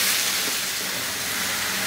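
Chopped medium tomatoes with a pinch of salt sizzle in a pan, giving a steady, even hiss that never lets up and has no talking over it.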